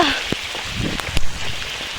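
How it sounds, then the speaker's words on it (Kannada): Steady heavy rain hisses close by on a hill trek at Pandavara Betta in Karnataka, with scattered drops smacking a surface. "ಫುಲ್ ಮಳೆ ಮಳೆ ಮಳೆ."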